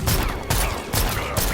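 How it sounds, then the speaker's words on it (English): Joker's rapid gunshots in the fighting video game Mortal Kombat 11, a loud burst of several quick blasts in rapid succession with no talking. "he now has to deal with the gunshots"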